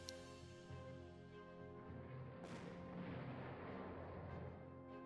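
Faint artillery fire in the WWII strategy game Wehrmacht Campaign Rommel near Moscow in 1941 gives one distant boom over a low, steady droning hum.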